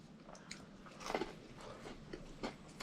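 Close, quiet bites into the crisp crust of pike baked in dough, giving several crunchy snaps and chewing crackles at an uneven pace, with no talking.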